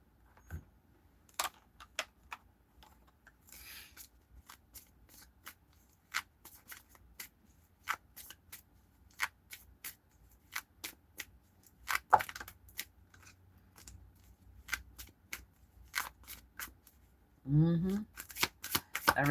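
Tarot cards are shuffled by hand in a string of crisp riffles and snapping taps, close and fairly quiet with pauses between, before a voice begins speaking near the end.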